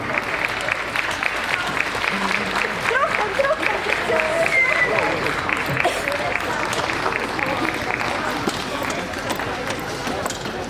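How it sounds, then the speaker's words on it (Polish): Sustained applause from an outdoor audience at a municipal festival celebrating 25 years of local self-government in Wieliszew gmina, steady and dense throughout with crowd noise mixed in. "Gorące brawa!"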